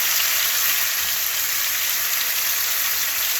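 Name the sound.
chicken pieces sauteing with seasoning in a pan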